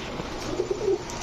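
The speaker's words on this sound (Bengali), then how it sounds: "এখন দেখাবো পাল্লা লাইনের এক জোড়া দুধ খাকি কবুতর" A pair of milk khaki pigeons cooing close by, a short soft run of low coos over faint background noise.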